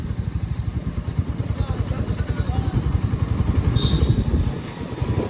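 Royal Enfield Meteor 350 motorcycle riding along on a cool day, with a steady low engine rumble and wind noise running continuously throughout, a close, moderately loud drone.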